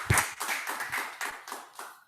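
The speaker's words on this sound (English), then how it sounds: "Let's give them a big round of applause." A small audience claps for panel speakers at the close of a challenge launch event, a short burst of hand claps that starts strong and thins out, fading to silence.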